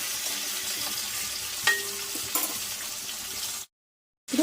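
Ridge gourd with garlic frying in a pan for chutney, a steady close sizzle with occasional small pops, cutting off abruptly into silence near the end.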